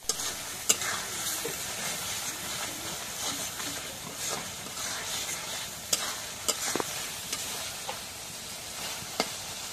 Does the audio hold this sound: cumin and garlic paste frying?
yes